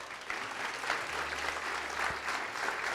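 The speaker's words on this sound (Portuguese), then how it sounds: "E vamos aplaudir ao Senhor." A church congregation applauds together, a steady wash of many hands clapping at moderate volume for a few seconds with no speech over it.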